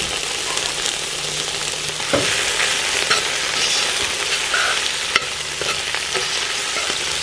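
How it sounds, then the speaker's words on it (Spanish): Shrimp heads and shells frying in hot oil in a pan, a loud continuous sizzle with occasional stirring clicks and scrapes, no talking. "Aquí le voy a poner un poco de aceite, donde voy a poner las cabezas y las cáscaras de los camarones."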